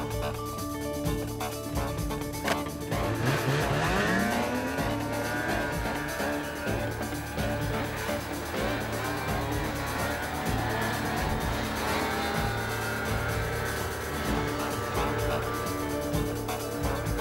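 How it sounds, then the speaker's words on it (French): Snowmobile engines rev and rise in pitch as their tracks bite into snow and throw ice behind them in Quebec, a loud continuous roar with whining pitch sweeps, with no talking. "Les moteurs s'emballent, les chenilles mordent la neige, projetant derrière elles des éclats de glace."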